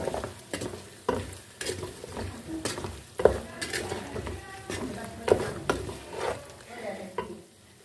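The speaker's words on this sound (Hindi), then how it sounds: "दो मिनट मसालों के साथ हम अच्छे से इसको भून लेंगे।" Spiced beef pieces are stirred and fried in a karahi, with a soft sizzle beneath repeated sharp scrapes and clinks of the spoon against the metal pan, coming at an uneven pace.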